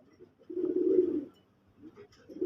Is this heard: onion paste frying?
no